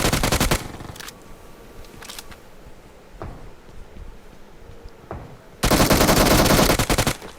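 Automatic gunfire in PUBG Mobile: a sharp burst at the start, scattered single shots in between, then a long loud rapid burst near the end.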